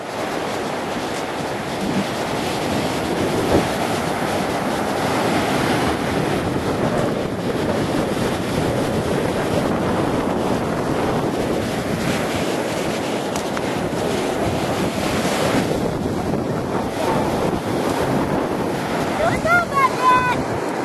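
Steady roar of ocean surf mixed with gusting wind buffeting the microphone, continuous and loud throughout, with no voices.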